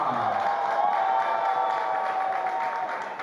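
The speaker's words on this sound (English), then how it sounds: "you saw the cheering from his former teammates from Cebu" Fans in the stands at a Philippines Football League match, Manila Digger FC versus Maharlika FC, cheering and clapping in a steady crowd roar after a goal, held at an even level throughout.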